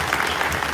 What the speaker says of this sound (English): So I would like all of us to give a round of applause to these gentlemen there.